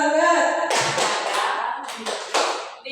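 A group of teachers at a school workshop claps a rhythmic spirit clap, quick patterned bursts of hand claps close by, following a brief stretch of speech at the start.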